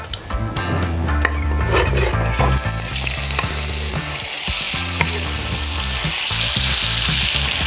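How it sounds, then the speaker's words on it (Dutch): Salmon frying in a pan with a little oil makes a loud, steady, dense sizzle, close up, with a rhythmic low tapping underneath and no talking. "Deze gaat met een klein beetje olie in de pan. Gewoon eventjes doorwarmen hoor."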